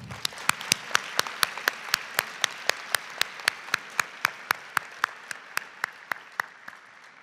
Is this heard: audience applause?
yes